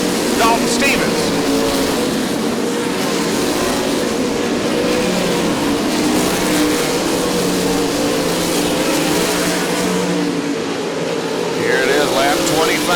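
Race cars roaring around the Devils Bowl Speedway dirt track in a production demo race, a continuous loud engine drone from the pack, with a commentator talking over it throughout.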